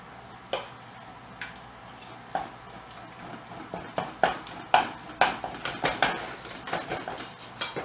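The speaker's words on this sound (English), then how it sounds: "And the hamburger's cooking." Ground hamburger meat fries in a pan on a home stove, its sizzle mixed with sharp metallic clinks and scrapes of a utensil against the pan, coming in quick irregular bursts that grow louder and busier toward the end.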